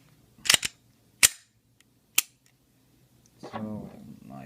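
Three sharp, dry trigger clicks from an SD9VE pistol fitted with an Apex kit, unloaded, spaced about a second apart, then a voice begins speaking near the end.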